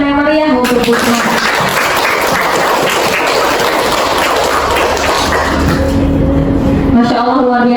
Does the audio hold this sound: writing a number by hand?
no